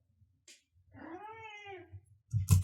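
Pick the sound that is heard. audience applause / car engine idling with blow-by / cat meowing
cat meowing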